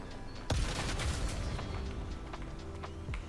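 Cannon fire striking an armored tank in the video game Trailmakers: a sharp, loud blast followed by rumbling, crackling impacts and a second shot near the end.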